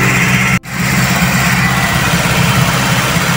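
A Toyota engine idles at a raised speed, about 1,950 RPM, giving a loud, steady close rumble, interrupted once by a brief dropout near the start.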